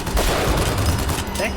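Rapid gunfire from a video game, a dense burst of overlapping shots close up, with a voice talking over it.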